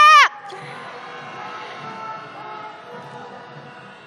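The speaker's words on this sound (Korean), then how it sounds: "함성 시작!" A crowd at a candlelight march cheers and shouts after a brief loud opening cry, the massed roar continuing steadily and fairly distant for several seconds without clear speech.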